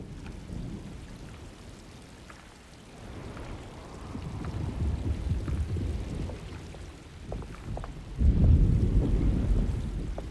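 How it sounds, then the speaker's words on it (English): Steady rain pours through a thunderstorm in the video game Alone in the Dark, with low rumbling thunder building midway and a loud, close thunderclap crashing near the end. "Looks like a storm's coming."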